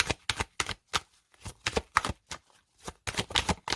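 Tarot cards being handled and set down in a reading, a quick run of crisp slaps and flicks that come in uneven bursts with short pauses between them.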